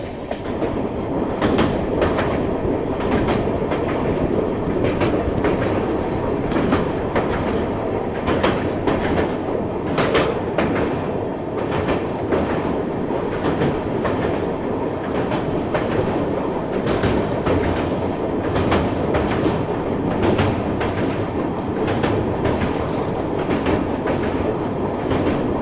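The Rajdhani Express runs on tracks after leaving Malda railway station in India. A steady, rhythmic clickety-clack of wheels over rail joints continues throughout, with constant rumble and no voices.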